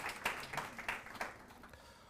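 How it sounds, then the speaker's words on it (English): A conference audience at a youth environmental gathering claps, a quiet, thin round of applause with several distinct hand claps standing out early, then thinning and fading away within a couple of seconds. "Please give yourselves a round of applause."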